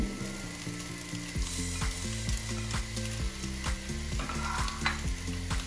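Chicken pieces with black pepper, salt and paprika frying in a pan, a steady close sizzle broken by repeated scraping stirs, with a background tone running alongside and no speech.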